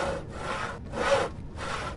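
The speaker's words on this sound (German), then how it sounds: "Vielleicht kann ich damit die Säge verwenden." A saw rasps back and forth in the adventure game Yesterday Origins, three rough, even strokes with short pauses between them, close and clear.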